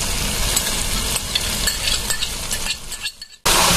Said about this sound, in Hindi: दही डाल के आप मसाले के साथ अच्छे से भूनना स्टार्ट कीजिए और भूनते ही रहिए।